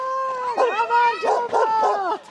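A dog nearby gives loud, high, drawn-out yelping barks and whines in quick bursts, close and clear.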